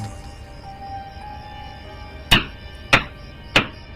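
Three sharp knocks, hammer blows against a wooden door, evenly spaced about half a second apart against a quiet background hum.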